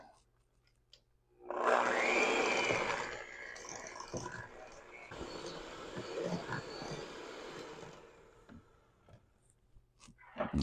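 Yellow cake batter enriched with extra egg yolks is mixed in a bowl, giving a steady, fairly loud scraping churn that starts abruptly and runs for several seconds before easing off.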